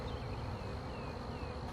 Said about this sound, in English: Look at this beehive activity. So many bees coming in and out, bringing pollen and nectar.